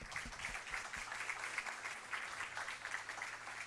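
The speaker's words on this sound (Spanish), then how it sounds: "Un aplauso." An audience claps after a talk on biological nitrogen fixation, a steady patter of moderate applause that carries on through the whole moment without a voice.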